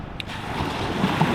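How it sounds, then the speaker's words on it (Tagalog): Sea waves slap against the hull of a fishing boat hauling in a net, a short close wash of water with wind noise, no talking. "Sampal na tayo ng alon."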